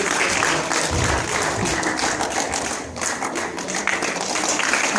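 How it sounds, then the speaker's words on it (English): Steady audience applause at a student education awards program, dense clapping from a crowd holding loud and even for the whole stretch. "then we'll give them a round of applause"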